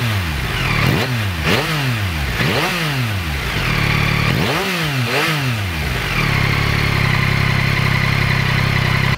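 A 2023 Yamaha XSR 900 motorcycle engine revs hard several times in quick repeated bursts, each rising and falling sharply, then settles into a loud, steady idle, close and without speech.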